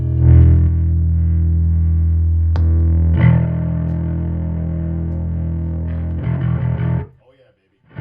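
A bass guitar played with heavy distortion through a Bergantino NV610 cabinet with speaker simulation, chugging loud rhythm-guitar-style riffs, with a few accented hits before cutting off into silence near the end.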